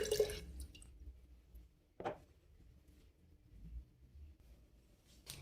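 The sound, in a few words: lemon juice dripping into rose petal infusion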